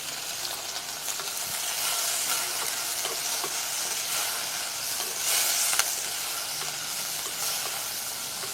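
Chillies, coriander seeds, cumin, coriander leaves, curry leaves and tamarind fry in a pan with a continuous close hissing sizzle and soft stirring scrapes, no voices.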